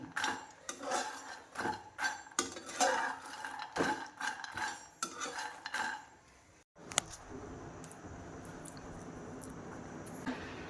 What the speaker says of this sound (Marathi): मखाना भाजून घ्यायचा आहे, जेणेकरून तो कडक बनेल.